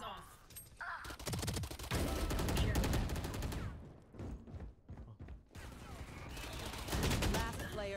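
Rapid bursts of automatic gunfire from a video game, loud dense volleys broken by a brief lull in the middle before heavy firing resumes, with voices faintly mixed in.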